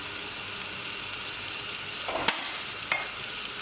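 Turmeric, garam masala, coriander powder and salt being mixed in a pressure cooker for beef mandi: a steady low sizzling hiss with two brief scraping stirs near the end, close by.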